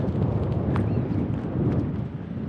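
Strong wind buffets the microphone on an exposed, uneven stretch of the Skye Trail, a steady loud roar and rumble running throughout with no talk.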